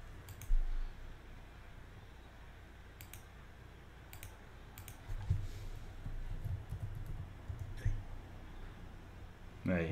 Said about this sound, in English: Clicking furiously.